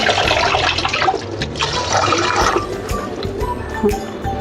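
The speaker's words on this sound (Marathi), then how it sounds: "अशी मस्त डाळ आपण हाताने चोळून धुऊया" Urad dal being washed in water by rubbing it between the hands, a continuous close sloshing and splashing with trickling water and wet rubbing noises, fairly loud and without talk.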